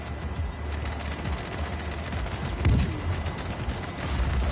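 In a GTA-style Minecraft game, guns fire in a continuous rattling fusillade with a heavier thump midway, steady and moderately loud with no talking.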